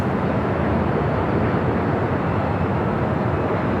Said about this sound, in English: We have a Frontier A320 Neo lined up 24 left.